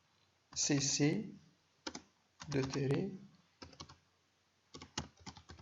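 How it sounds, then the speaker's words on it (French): Computer keyboard keys clicking in short bursts as a command is typed, close and crisp, with someone speaking between the keystrokes. "Donc je tape cmd pour inviter des commandes. Je tape gcc"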